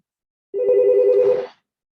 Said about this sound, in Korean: 잠시만요. 전화가 왔는데